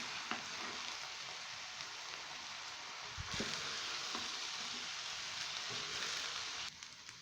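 Chinese rice being tossed and mixed in a hot pan, a dense, steady sizzle with soft scraping of the stirring utensil, close and continuous with a brief thump near the middle.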